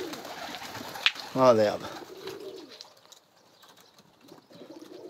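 A pigeon gives a short, throaty coo with a clear pulsing warble near the middle, close to the microphone, while someone talks softly before and after it.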